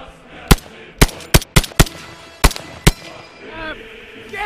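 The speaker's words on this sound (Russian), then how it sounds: "сейчас мы займемся стрельбой" Gunshots from a backyard shooting session: seven sharp, loud reports at irregular intervals, some in quick succession, with a faint voice toward the end.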